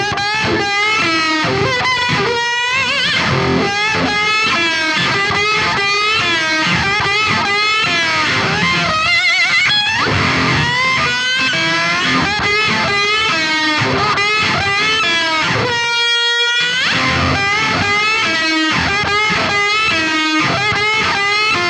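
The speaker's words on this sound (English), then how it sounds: "it sounds like this with the wah-wah pedal" A slide guitar plays a riff through a wah-wah pedal, loud and continuous, with gliding sliding notes and sweeping filtered tone over a steady beat.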